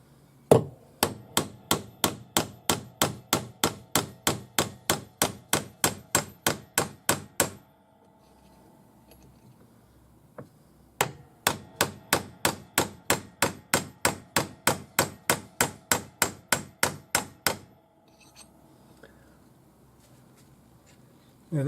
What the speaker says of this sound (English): Now as we hammer it, this will be getting bigger.